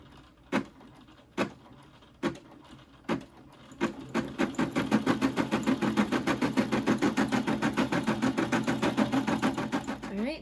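An embroidery machine stitches a design onto a bag. A few spaced thumps come first, then the machine starts a rapid, even, rhythmic clatter that runs steadily up close.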